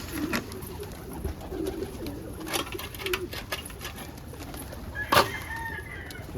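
Pigeons in a loft coo and flutter softly at close range, with low murmuring calls scattered throughout and one sharper, louder call near the end.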